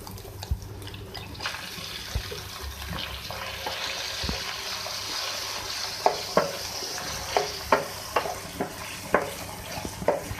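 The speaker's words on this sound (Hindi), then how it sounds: "चिकन डाल के भी आप इसको फ्राई करें" Steady sizzling of chicken frying in a pan with onions, ginger and garlic, with repeated sharp scraping knocks from stirring that grow regular toward the end, close and moderately loud.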